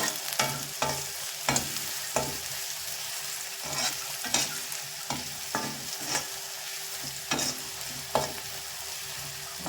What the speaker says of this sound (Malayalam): കൊച്ചുള്ളി നല്ല ബ്രൗൺ നിറമാവുന്ന വരെ നമുക്കൊന്ന് വഴറ്റിയെടുക്കാം.